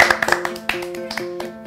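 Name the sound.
clapping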